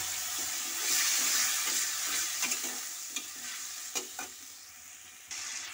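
Spice paste with tomato, garlic and ginger sizzles in a pan as a little water is poured in, a loud hiss that gradually fades, broken by a few sharp clinks of stirring.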